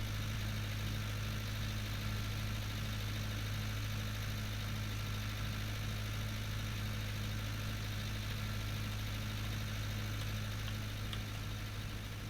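A mower engine in the Farming Simulator 19 video game runs steadily throughout, a dense continuous drone with a strong low hum and no pauses or talk.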